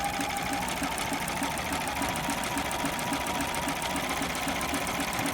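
A sewing machine runs a zigzag stretch stitch along a knit band, giving a steady, even needle rhythm at close range with no talk.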